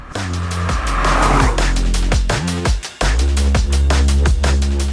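A 2022 Kia Stinger GT Elite pulls away hard. The loud, close engine climbs in pitch and drops at several quick gear changes, with a brief tire squeal mixed in.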